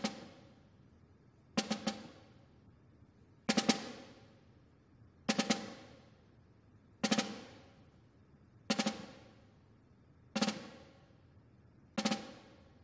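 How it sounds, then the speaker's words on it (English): Snare sticks playing four-stroke ruffs on a soft chair, eight separate dull clustered taps spaced about every one to two seconds, the flams tightening toward single hits, soft and near, with no voices. "I'm going to start with a really open four-stroke RUFF, and then I'm going to close it down"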